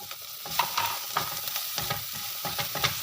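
Onion-garlic base paste frying and being stirred in a pan over a high flame, with repeated scraping strokes of a spatula over a steady sizzle, close and fairly loud, no talking.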